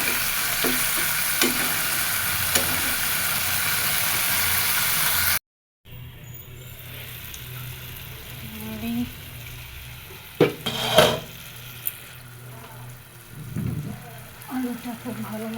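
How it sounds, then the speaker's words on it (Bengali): Potatoes sautéing with spices in a pan for a fish curry with figs, a steady oily sizzle broken by a brief cut, then quieter frying with spoon scrapes and clinks against the pan. "আলু দিয়ে ভালো মতো কষাই নেব"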